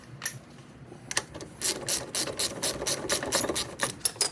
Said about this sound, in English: I'm going to use my ratchet wrench to actually speed things up here.